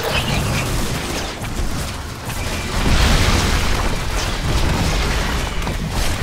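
A continuous barrage of booming explosions and crashing impacts from incoming fire in the StarCraft 2 Legacy of the Void campaign, loud and dense with layered rumbles and bursts and no clear breaks.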